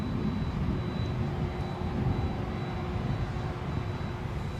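A jet airliner departs Edinburgh airport, a steady, broad engine roar that holds at a fairly even level throughout, heard from a distance with no voices.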